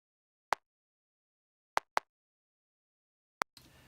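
Four short, thin kick drum knocks, the top kick from a pop song with both low and high end cut by EQ, sounding boxy and mid-focused; sparse, isolated hits with a faint hiss at the end.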